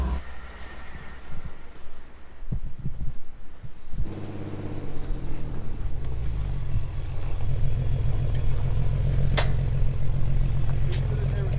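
A Jeep being moved in snow, its engine rumbling low and steady, rising in level and settling into a close idle-like drone, with clatter and talk earlier.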